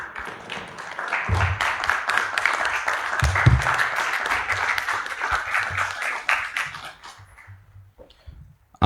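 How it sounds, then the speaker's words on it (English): Audience at a hackathon livestream event clapping for guests walking onto the stage, a lively burst of applause that holds steady and then tapers off to a few last claps. "Let's clap for our guests as they come through the stage."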